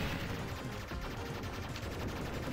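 Rapid shooting in the arcade shoot-'em-up Aero Fighters 2, dense continuous bursts of small gunfire and explosions layered over game music, loud and steady throughout.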